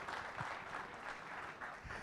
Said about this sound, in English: So big round of applause to our Chief Minister.